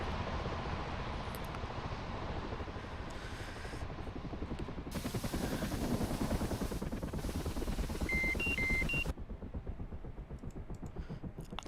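A helicopter in the DCS flight simulator game whirs with steady rotor chop and turbine hiss, loudest in the middle, with a few brief electronic beeps near the end.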